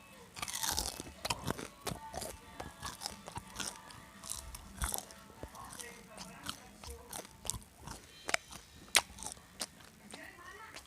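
Crunchy deep-fried meatballs, fried straight from the fridge, are bitten and chewed up close, giving a steady run of crisp, sharp crunches and wet chewing throughout, with speech-like sounds in places.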